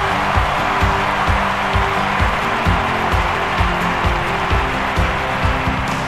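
A big stadium crowd at the London 2012 Olympics men's shot put claps for the athlete in a steady, rhythmic beat, a loud and sustained wash of sound around the arena.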